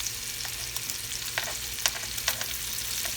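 Lobster fries in a hot pan with a steady, dense sizzle throughout, broken by a few sharper crackles and pops, close and fairly loud with no talking.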